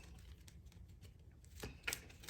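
Tarot cards are shuffled softly in a quiet room, a faint riffling patter with a few sharper flicks near the end, no voices.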